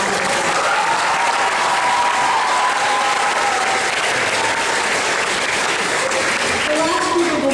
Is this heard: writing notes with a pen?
no